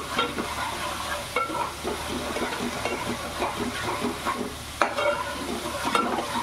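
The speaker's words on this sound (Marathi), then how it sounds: "दोन मिनटं तरी पण असं ढवळत राहायचं, म्हणजे आपले मसाले शिजून जातात तेलामध्ये" A spicy masala paste with turmeric and garam masala fries in oil in a pan while being stirred steadily, giving a continuous close sizzle with scraping stirs throughout.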